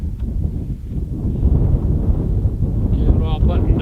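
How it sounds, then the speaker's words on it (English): Strong wind buffets the microphone with a steady rumble on a cold, rainy winter day outdoors at a greenhouse build site, loud and continuous with a brief voice near the end. "You can hear that wind."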